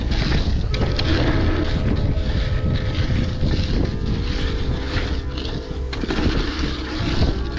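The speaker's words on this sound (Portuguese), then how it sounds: "Está a pegar vento de lado." A strong crosswind blows at riding spots around Figueira da Foz, roaring and buffeting the microphone in a loud, continuous rush that swells and dips slightly throughout.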